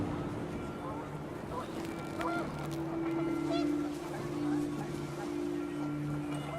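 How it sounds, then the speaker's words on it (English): Panicked geese honking in the video game What Remains of Edith Finch, several overlapping honks and calls over wind, with a voice talking over them. "Wind picked up, and panicked geese appeared and quickly went."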